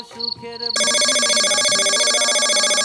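A mobile phone rings with a steady, loud electronic ringtone that takes over after a brief moment of other sound and continues alone, pulsing in an even rhythm.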